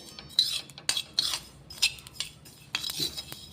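A metal spoon scraping and tapping against a pan and plate while moving roasted sesame and poppy seeds, with several short clinks and scrapes spaced out over a few seconds.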